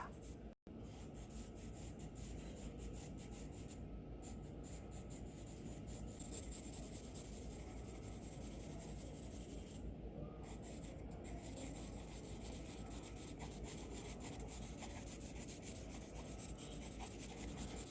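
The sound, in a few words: charcoal shading on paper for portrait drawing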